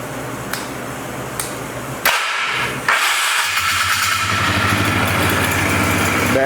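A flood-damaged Polaris 325 ATV engine restarting, with sharp clicks and bursts as it catches, then settling into a loud steady close running rumble.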